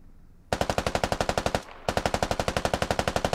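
Automatic gunfire in the military shooter game SQUAD, two long, evenly paced bursts of sharp, close shots separated by a brief pause.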